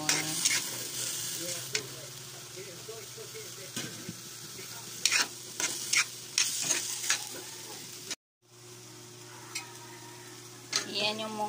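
Ingredients are sautéed in a pan for a Filipino mung bean dish, with close, continuous sizzling and repeated scraping and stirring strokes of a utensil, a short break near the end before the frying resumes.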